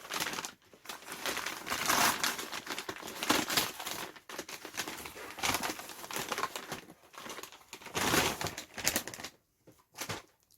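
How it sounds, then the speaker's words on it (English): Continuous crinkling and rustling of packaging as a crochet subscription box is unboxed, close up, with bursts of louder crackles and brief pauses, no voices. "We'll cue lots of rustling"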